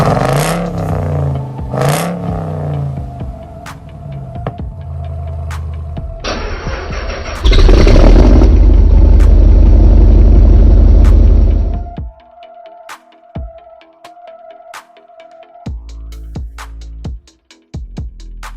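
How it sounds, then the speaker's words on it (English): A supercharged Dodge engine cold-starts with a starter whir before it catches, flares into a loud roaring rev with supercharger whine, then settles into a lumpy idle heard from near the tailpipe. "let me walk out to the back by the tailpipe so you can do the first cold start"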